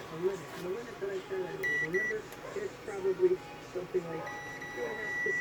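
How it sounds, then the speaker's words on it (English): A digital multimeter in continuity mode gives short, thin electronic beeps while testing a shorted diode on a backlight circuit. One brief pair sounds, then a longer tone follows, both faint under a murmuring voice-like background. "It's beeping."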